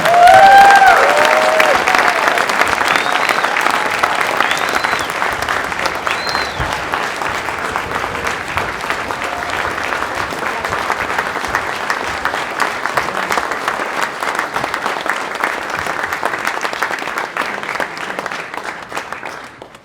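An audience at a Hall of Fame induction night claps steadily for nearly twenty seconds, a dense, even wash of applause that starts loudest and gradually tapers, with faint whistles early on.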